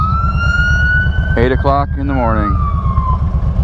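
A police siren wails steadily on a Chicago street in the morning, a rising and falling tone over loud engine rumble, with someone speaking briefly over it.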